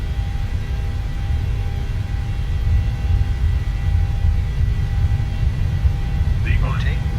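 A steady, loud roar of airliner engines on the takeoff roll in Microsoft Flight Simulator 2020, a continuous low rumble with a faint whine above it and someone talking over it.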